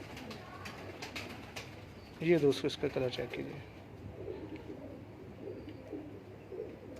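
A domestic pigeon coos in a short run of soft, rolling calls heard over steady background noise, while someone talks before and after.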